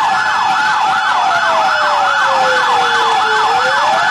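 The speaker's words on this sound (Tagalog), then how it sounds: "Malakas yung mga wang-wang nitong fire truck." A loud siren on a brand-new fire truck wails in fast rising and falling sweeps, close by, with a lower tone sliding slowly downward underneath.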